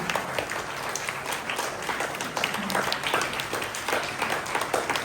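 At a Vacation Bible School final program, an audience gives a round of applause for the teachers: moderately quiet, steady clapping from a crowd, continuous across the whole stretch.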